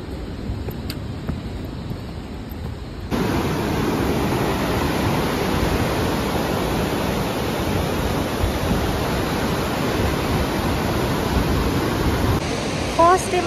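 A mountain river rushes loudly on the Langtang trek in Nepal, a dense and steady roar of flowing water heard up close throughout. A voice is partly buried beneath the torrent.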